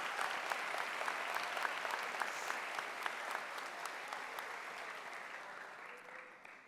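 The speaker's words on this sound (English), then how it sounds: "Please give a round of applause to our teachers for their dedication to Cornerstone students." Applause for teachers from a seated and standing audience at the 2024 Cornerstone graduation ceremony, a steady dense wash of many hands clapping that holds for several seconds, then thins slightly toward the end.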